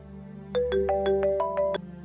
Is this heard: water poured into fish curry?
no